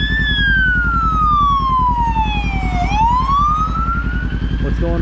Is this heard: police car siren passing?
yes